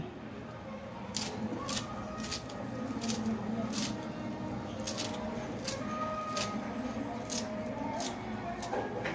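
A knife finely chops coriander leaves for a tomato chutney, giving quiet, close, rapid taps in an irregular rhythm against a soft background hiss.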